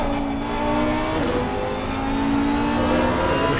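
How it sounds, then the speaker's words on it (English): A race car engine in a PC racing game held at steady high revs, loud and continuous, with a slight change in pitch as the throttle eases off. "just come off the throttle a little bit there, as you can hear."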